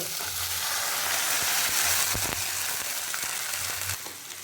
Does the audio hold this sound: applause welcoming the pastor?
no